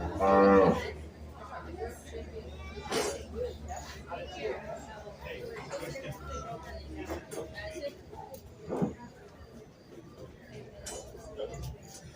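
A cow and calf in a county fair 4-H and FFA beef show ring give a loud moo near the start, with crowd chatter and murmuring voices continuing throughout the hall.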